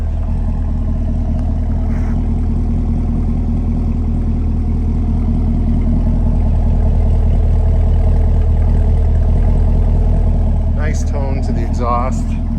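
Exhaust of a 2021 Chevrolet Camaro 2SS 1LE with a six-speed manual: a continuous, loud, deep idling rumble heard from close behind the car, with faint scattered clicks near the end.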